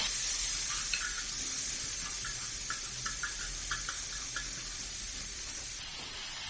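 Crushed chili frying in oil in a pan while making scrambled egg, a bright continuous sizzle with small ticking pops scattered through the middle, close and steady.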